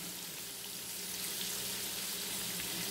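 Ground meat sautés in a pan for homemade hamburger helper, giving a steady, close sizzle with an even hiss that holds throughout, with no voices.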